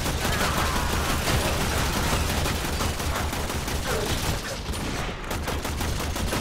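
Dense, continuous gunfire from the video game Warframe, rapid bursts of shots rattling without pause at a loud, steady level throughout.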